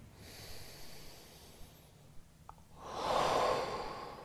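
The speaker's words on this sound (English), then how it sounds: "One more breath here." A single loud, breathy exhale rises near the end, after quieter breathing, during a stretch in a full-body beginner yoga workout.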